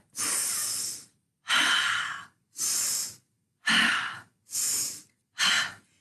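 A child's deep yoga breaths come as six long, steady inhales and exhales, each about a second, close to the microphone and airy, separated by short silent pauses.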